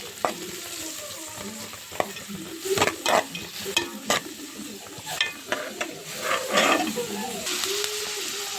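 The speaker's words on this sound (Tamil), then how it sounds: "வெங்காயம் போடலாம். வெங்காயம் நல்லா சிவப்பாகட்டும்." Onions sizzle in hot oil in a pan for a prawn mango gravy, with repeated scraping, clanking stirs over a steady frying hiss and a faint voice now and then in the background.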